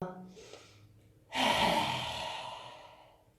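A deep inhale followed by a long, loud, breathy exhale during a prenatal yoga breathing exercise, the outbreath starting abruptly and fading slowly, close and alone.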